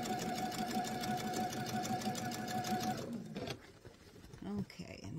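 A sewing machine runs steadily for about three seconds, stitching an eyeglasses case, then stops; a brief pause follows with faint handling and a voice-like sound near the end.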